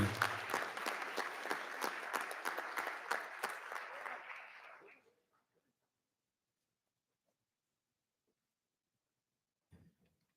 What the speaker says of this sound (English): Another round of applause for Ismail.